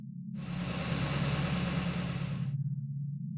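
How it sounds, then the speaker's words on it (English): A truck engine sputters as a sound effect: a rough, knocking mid-range rumble that swells for about two seconds over a steady low drone, then drops back, with no voices. "and my engine sputtered."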